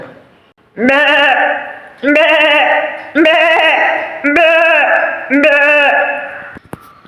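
A human voice mimics a goat, giving five drawn-out, wavering bleats in a steady sequence, each loud and close, with short pauses between.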